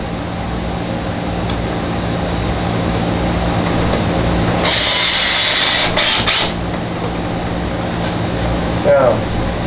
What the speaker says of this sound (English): find your screw, get my drill